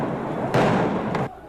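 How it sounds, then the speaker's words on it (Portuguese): Stun grenades and rubber bullet shots fired to disperse a street protest, heard as a loud burst with a sharp onset, sustained for most of a second and then cut off, over constant crowd noise and talk. "O grupo foi dispersado com bombas e tiros de bala de borracha."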